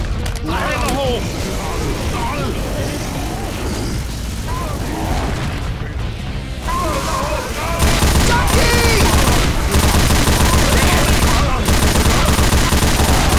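Continuous gunfire rattles through a Left 4 Dead co-op round, volleys of shots piling over each other with mechanical clatter, growing louder and denser in the second half.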